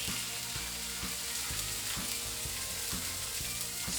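Salmon seasoned with seafood seasoning searing in olive oil in a smoking hot pan, a dense continuous hiss and crackle with faint low rhythmic knocks underneath, close and steady with no talk.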